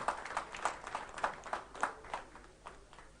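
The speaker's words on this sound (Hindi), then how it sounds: "तालियां बजती रहनी चाहिए।" Audience applause in a hall during an award and memento presentation at a regional mega conclave, heard as a sustained patter of many hands clapping with periodic swells, moderately loud and without talk over it.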